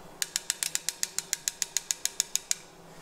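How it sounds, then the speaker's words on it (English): A plastic phone holder for a float tube rod setup gives a quick run of about fifteen sharp ratcheting clicks as it is pushed together, close and crisp, with no talk. "when I start to push it together, it starts to click."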